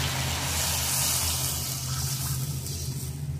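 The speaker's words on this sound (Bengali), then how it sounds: "সামান্য একটু কষিয়ে জল দিয়ে দেবো।" Water pours steadily into a pan of lightly fried mustard sauce for hilsa fish, a continuous loud gushing splash that runs for the whole stretch without any talk.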